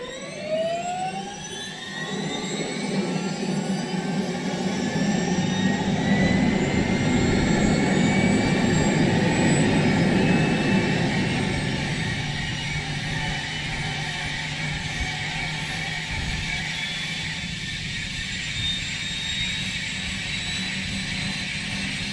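Helicopter turbine starting up before takeoff on a flight from Angra dos Reis, a rising whine building into a loud, steady roar that settles to a constant engine drone, with no talking.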